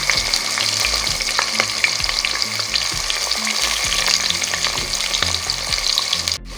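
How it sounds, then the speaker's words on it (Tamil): Sliced onions frying with cumin seeds in hot oil, a steady close sizzle with crackling pops and the scrape of stirring throughout, no voices over it. "பெரிய வெங்காயம் நீளமாக கட் பண்ணது சேர்த்துக்கிறேன். வெங்காயம் நல்லா வதங்கணும்."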